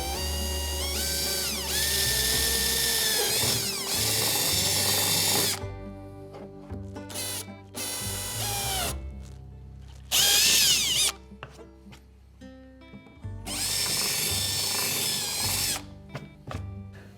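A power drill whines in repeated bursts as it bores holes for a Hobie Sidekick ama kit's clamps, with short pauses and clicks between runs, loud and close.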